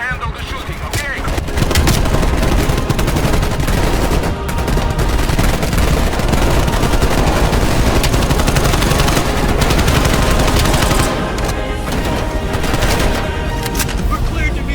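Sustained, loud helicopter-mounted gunfire in Call of Duty: Black Ops Cold War, continuous rattling machine-gun bursts layered over a dense, roaring combat mix for the full stretch.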